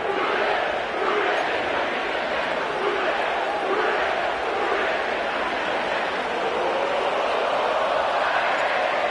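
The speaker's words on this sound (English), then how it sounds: "sellout crowd has arrived at Paycor Stadium in Cincinnati" A packed stadium crowd at Paycor Stadium in Cincinnati in the Madden 24 video game gives a loud continuous roar with cheering swells, alone and without commentary.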